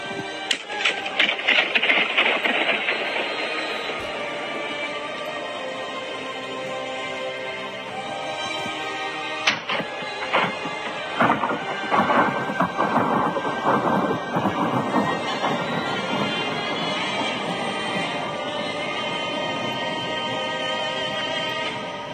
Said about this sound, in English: a video of a guy blowing a balloon inside a nuclear power plant. When slowed down, it sounds just like thunder.